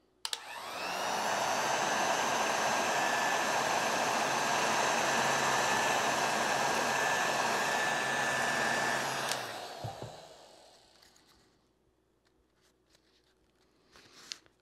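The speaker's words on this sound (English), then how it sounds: "let's see how well this manages to protect me from the heat gun" A heat gun blows on a wristband, a loud steady whooshing roar starting abruptly and running for about nine seconds before cutting off and fading to near quiet.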